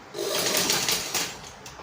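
A sewing machine stitches the tip of a crinoline horsehair braid for a peplum flare, a close, loud whirring burst of rapid stitching lasting under two seconds.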